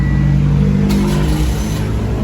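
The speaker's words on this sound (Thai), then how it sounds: "เครื่องยนต์ก็จะสตาร์ทติดนะครับ" Daihatsu Hijet engine running after a push-button start, a loud, close, steady idling hum with a low rumble throughout.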